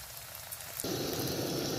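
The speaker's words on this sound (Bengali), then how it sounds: "তেল গরম হয়ে গেছে, এবার আমি একটা একটা করে দিয়ে ভেজে নেব।" Kusumer chops, cornflour-coated, dropped one by one into hot oil, setting off a sudden loud, dense sizzle that keeps crackling steadily and close.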